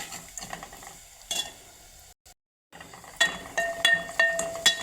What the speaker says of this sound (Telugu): ఇప్పుడు ఉప్పు ఒక స్పూన్ ఇలా కలపాలి